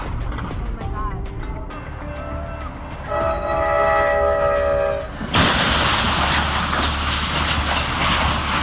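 A train passes close by, blasting its horn in a loud, sustained multi-tone chord before the rumble and rush of the passing cars take over; shouting voices are heard near the start.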